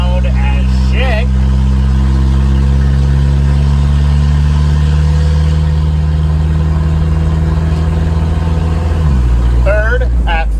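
Engine of a 1987 Toyota van pulling away from a stop sign, loud and close, with a steady low drone that climbs through low gear, then an upshift into second with the pitch dropping and building again.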